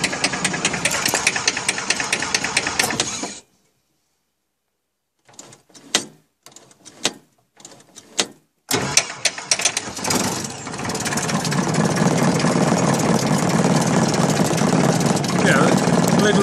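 Jodel D112 light aircraft engine chugging at close range, then cutting out into silence broken by a few clicks and knocks before it restarts and settles into a loud, steady idle.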